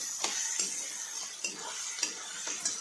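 Onions frying in a pan for kanda poha, a steady sizzle with a spoon stirring and scraping against the metal at a regular rhythm, close and clear, with no voices.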